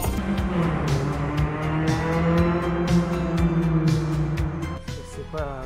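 An Alpine sports car is driven hard on a road, its engine revving loud and close with rising and falling pitch, gear changes and a brief lift-off near the end.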